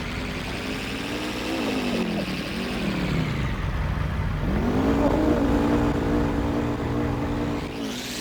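A Honda vehicle fitted with four tracks revs its engine nearby, loud and rising and falling in pitch over several seconds as it accelerates, then settles again, with no voices.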